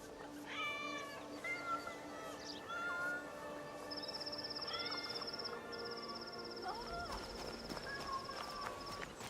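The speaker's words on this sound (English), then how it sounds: "Jesus, there's a lot of cats there." Several cats meow in the video game Assassin's Creed Shadows, a string of separate mews from different animals over a quiet ambient bed, joined midway by a steady chirping call.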